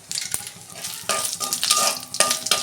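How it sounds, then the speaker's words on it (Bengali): Dried red chili, bay leaf and cumin crackle in hot oil in a kadai, a loud close sizzle that flares in bursts alongside a few sharp metallic clinks of a spoon against the pan. "ফোড়নটা আমি 2 মিনিট ভেজে নেব"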